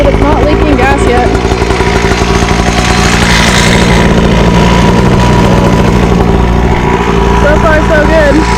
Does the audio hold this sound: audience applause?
no